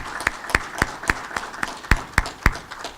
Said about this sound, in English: just to give the marketing team a big round of applause